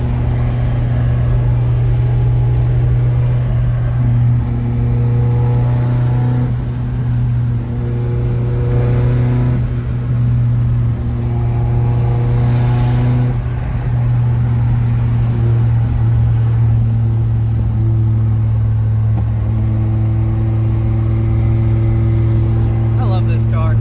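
A Mazda RX-7 engine pulls hard and loud through repeated accelerations, its steady drone rising and easing in long waves as the car runs, with talk over it.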